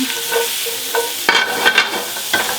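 Sliced button mushrooms sweating in butter in a hot pan, a steady close sizzle broken by a few scraping stirs and tosses of the pan.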